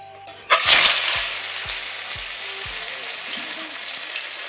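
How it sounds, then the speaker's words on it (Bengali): Katla fish pieces dropped into hot mustard oil in a kadai burst into loud, close sizzling that stays as a steady bright frying hiss with faint spattering pops. "এই কাতলা মাছে তো প্রচণ্ড তেল থাকে, মাছগুলো কিন্তু ফাটবে, সাবধানে ভাজতে হবে।"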